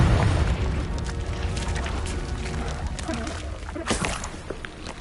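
A Confringo explosive spell cast in a Harry Potter wizarding-school video game on PS5: a loud, close, deep boom right at the start, followed by a rumbling, crackling tail that lingers for several seconds with a few sharper bursts near the end.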